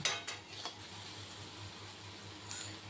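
Boiled potato and taro being stirred and fried in a pan, with a few scraping clinks of a utensil against the metal at the start over a soft, steady sizzle, fairly quiet and close.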